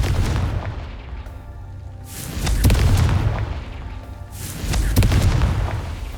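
Spell blasts in a wizarding video game go off as a few loud, booming bursts in turn, each with a heavy low thump and a crackling tail, heard alone without talk.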